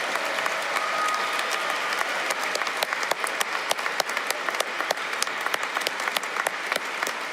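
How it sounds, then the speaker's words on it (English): A large graduation audience applauds at a business school undergraduate degree ceremony, giving the standing faculty a dense, steady, loud roar of clapping with sharp individual claps popping out, sustained for the whole stretch with no talking. "Give them a big applause."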